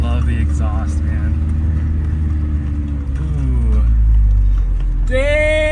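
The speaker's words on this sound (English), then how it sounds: "I love the exhaust, man" A car engine rumbles deep and loud up close, its exhaust note rising and falling with revs, while voices chatter over it.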